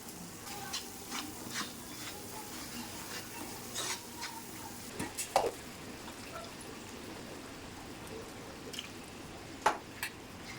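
Spice paste for a village-style Bengali tilapia curry sautéed over a low gas flame, with soft continuous sizzling, scraping stirs and a couple of sharper clinks of the spoon against the pan, close and steady.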